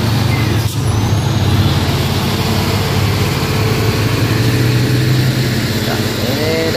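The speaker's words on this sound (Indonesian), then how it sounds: "ini dam truk juga teman-teman" A loaded dump truck labours uphill in a busy convoy, its heavy diesel engine droning loud and close throughout, with a hiss of air brakes and passing traffic.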